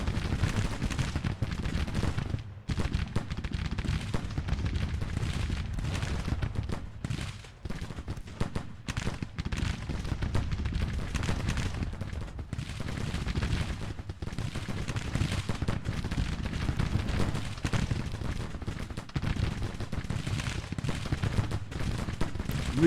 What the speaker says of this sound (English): Real grim close range fire here against Cobb and Abercrombie.